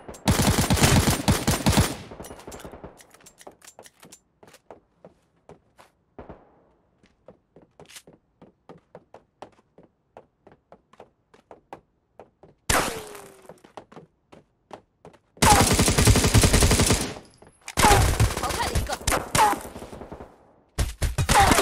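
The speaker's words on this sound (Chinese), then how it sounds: "发现敌人， 一次完美的射击。" Automatic gunfire in the battle-royale shooter Knives Out, with loud sustained bursts at the start and again toward the end, separated by a quieter stretch of sparse single shots and faint clicks.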